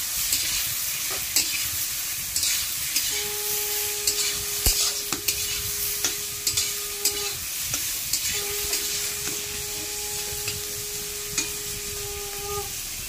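Potato and eggplant pieces fry in a pan with a steady close sizzle, punctuated by repeated sharp stirring clicks of a spatula and a faint tonal hum in the background.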